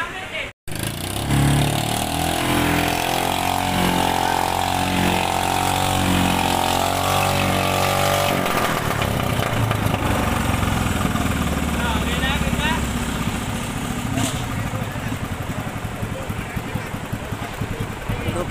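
Boat engines idle and are warmed up before a fishing outing, a loud steady rumbling drone throughout with people's voices briefly shouting over it near the start.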